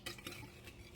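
Eggs are whisked in a bowl for a coconut cream pie, a brief close scraping and clinking of whisk against the bowl with quick repeated strokes and no talking.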